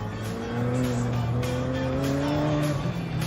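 McLaren 765LT Spider driven hard on a track, engine note rising under strong acceleration and then dropping as it brakes, heard loud and close from on board with a steady roaring drone.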